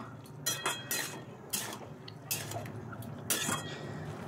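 A spoon stirs elephant apple pickle cooking down in sweet syrup with chili powder in a pan, giving soft scrapes and clinks against the metal at a loose, uneven rhythm over a quiet room hum.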